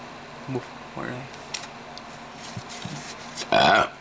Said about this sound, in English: I gotta stop with the burping